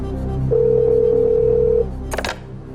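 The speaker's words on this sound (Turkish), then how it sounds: "Çalıyor Bülent Güven'in telefonu" A telephone rings once with a steady electronic tone on a television quiz show stage, loud and clear over a low studio hum, followed by a brief clatter as the receiver is picked up.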